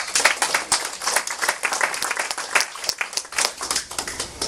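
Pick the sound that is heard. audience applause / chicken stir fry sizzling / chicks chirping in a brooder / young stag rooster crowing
audience applause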